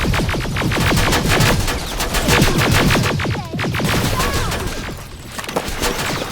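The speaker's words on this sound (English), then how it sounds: "Under heavy fire!" Sustained rapid gunfire in the video game Terminator: Resistance, a loud dense fusillade of automatic shots crackling continuously with brief dips, close and overwhelming.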